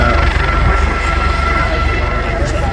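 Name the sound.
aircraft engines powering up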